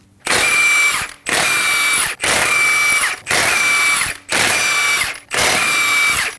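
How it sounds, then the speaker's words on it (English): A socket tool on a 21mm socket spins lug nuts off a Nissan Armada wheel in six loud, evenly spaced whirring bursts separated by brief pauses, with no talking. "go ahead and remove the lug nuts"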